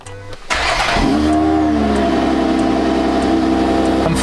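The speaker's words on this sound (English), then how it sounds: "Quick cold start for you guys." A Ferrari with its stock exhaust cold-starts: a brief cranking whir gives way to a sharp catch and rev flare, then it settles into a loud, steady high idle that holds close by.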